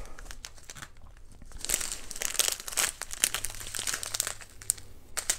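Small plastic bags of diamond painting drills from an unboxing are handled and shaken close by, producing a busy, irregular crinkling and rattling that grows louder after the first second and continues in uneven bursts.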